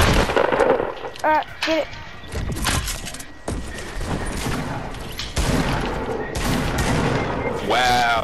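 Loud, close bursts of gunfire and explosions in a Fortnite match, with rapid shots and heavy booms coming in clusters while players talk over them.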